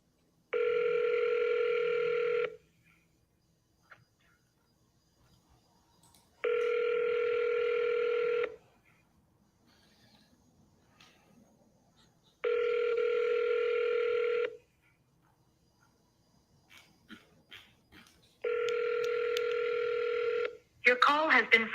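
A phone call dialing out and ringing, with four evenly spaced ring tones about two seconds long separated by silence, then faint clicks at the end.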